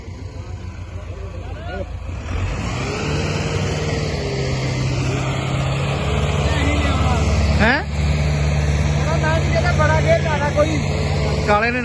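A heavy 4x4 tractor engine drones and labors steadily at low pitch while pulling a load, with people talking loudly over it throughout.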